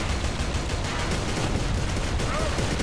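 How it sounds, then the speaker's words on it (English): Dense, continuous gunfire rattles through the whole stretch in the co-op shooter Inversion, a steady fusillade of overlapping shots close and loud, with faint game voices beneath. "So who's shooting the APC?"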